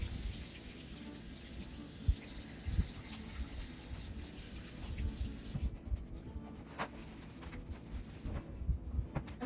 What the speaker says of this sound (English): So I'm just going to rinse off my hands.